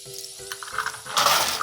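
Quarters clinking and rattling as a laundromat washer's coin box is emptied, with light metallic clicks building into a louder, denser jingle of coins near the end.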